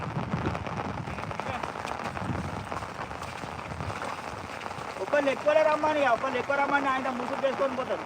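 Heavy rain falls in Telangana as a steady, dense patter on surfaces, continuous throughout, with people talking over it in the later part.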